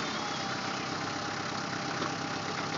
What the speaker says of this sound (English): Start your tractor.